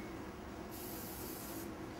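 A short hissing burst of cooking spray onto a cast iron pan lasts about a second over a steady low background noise.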